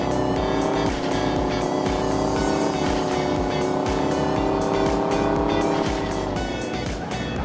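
A truck drives at high speed in Road Trip Car Simulator 2, its engine droning steadily and loudly through the whole stretch with tire noise, layered with game music and no break.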